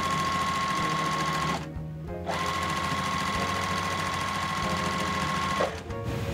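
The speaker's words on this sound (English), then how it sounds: "I'm gonna sew this piece to this piece, this piece to this piece" A sewing machine stitches quilt block pieces together in steady, continuous runs, pausing briefly twice between seams, close and alone with no talk.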